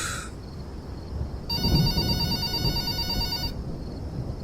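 At night, a telephone rings with a steady, bright electronic trill lasting about two seconds over quiet room hiss, then stops.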